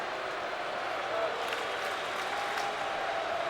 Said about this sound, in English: Cardinal fans cheering.